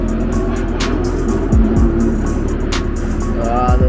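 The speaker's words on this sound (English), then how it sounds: "Ah, the Lamborghini." Lamborghini supercar at a night car meet in Kobe, Japan, loud and close: a steady engine drone with rising revs and sweeping pitch shifts as cars rush past amid crowd noise.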